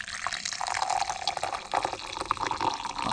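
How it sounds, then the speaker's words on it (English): Morning coffee poured into a cup, a steady close trickling liquid stream with small splashy fluctuations running throughout. "Coffee in the morning being poured."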